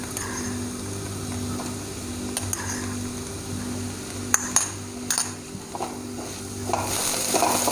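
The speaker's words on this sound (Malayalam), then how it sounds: "എന്നിട്ട് ഒന്നുകൂടി നമുക്കത് വഴറ്റിയെടുക്കണം" Finely chopped green chilies being sautéed in a pan, a steady close sizzle under a constant low hum, with several clicks and scrapes of a utensil stirring.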